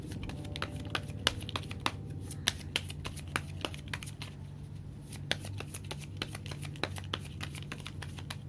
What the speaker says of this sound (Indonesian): gue akan coba bukain kartunya buat kalian